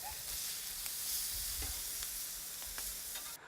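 Prawns sizzle on a hot barbecue grill, a steady close crackle and hiss with scattered pops and faint scraping throughout.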